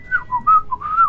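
A single whistled imitation of a falling bomb: one person whistles a wavering, gliding tone in several short swoops, fairly loud and close, with no talk over it.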